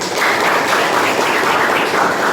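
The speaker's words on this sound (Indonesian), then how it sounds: "Tepuk tangan lagi" A classroom audience claps together in a dense, even wash of applause that holds steady and loud from start to finish.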